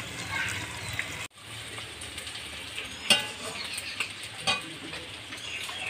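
Chicken leg pieces sizzling and frying uncovered in a pan in a village kitchen, with a steady crackle, a brief gap and a few sharper scraping stirs; a voice is faintly present.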